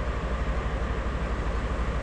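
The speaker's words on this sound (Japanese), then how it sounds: "トロッコ電車です。" Trolley train rumbling at Saga-Arashiyama station in Kyoto, a steady low rolling drone with no distinct clicks, moderately loud and continuous, no voices.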